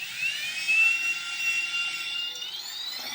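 A machine polisher spins continuously at speed 6 in a garage, giving a steady high-pitched whine that holds its pitch for the whole stretch.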